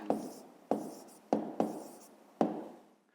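Handwriting numbers with a pen on paper during a math exercise, five distinct scratchy strokes spaced unevenly, each starting sharp and trailing off, close and quiet.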